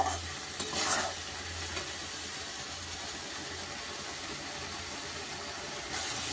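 Chicken pieces frying in a pan with Kashmiri chili give a soft, steady sizzling hiss throughout, with brief stirring scrapes near the start and again at the end.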